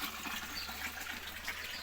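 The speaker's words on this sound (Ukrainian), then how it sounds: "Це воду ми набираємо з мого другого колодязя." Water gushes steadily as it is drawn up from an old hand-dug well, a continuous close rushing and filling sound with no speech.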